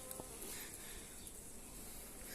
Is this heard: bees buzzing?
yes